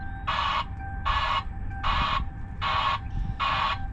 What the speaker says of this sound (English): A couple other options that we have are the white noise alarm